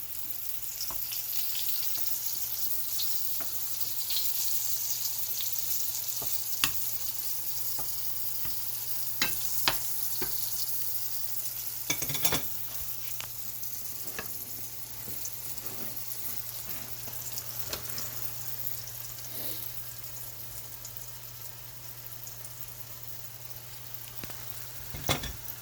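Chicken of the woods mushrooms fry in a pan with a steady, close sizzle that runs throughout, broken by occasional sharper pops and crackles.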